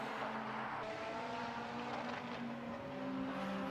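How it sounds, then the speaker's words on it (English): A Caterham race car exits the hairpin at the Knockhill circuit, its engine a steady, fairly distant drone held at a constant level throughout, with no voices. "Here comes the Caterham out of the hairpin"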